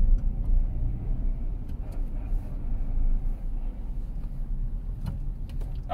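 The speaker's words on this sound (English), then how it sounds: "it's first gear, is the only time we hear this whining noise" A car running in first gear with a clutch that slips badly, heard from inside as a steady low engine rumble with a faint whine riding over it and no speech.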